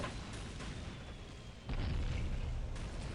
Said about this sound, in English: I think it's all those venom cannons.